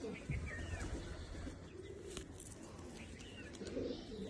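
Soft cooing of Sialkoti Sheikhon Wala high-flyer pigeons and scattered bird chirps in a busy outdoor setting, with faint background voices and low rumble throughout.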